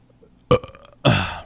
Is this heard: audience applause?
no